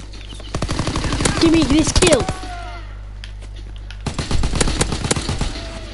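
A PPSh submachine gun in a WWII video game fires two long rapid bursts of loud, dense automatic shots separated by a short lull, with a brief voice over the first burst.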